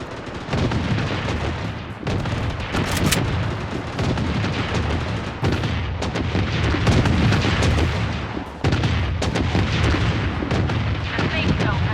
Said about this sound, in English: Missile bombardment on its way.